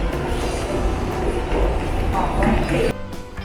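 Loud, continuous rumble of a moving ITX train in Korea with rattling wheels and a brief metallic squeal, fading abruptly near the end.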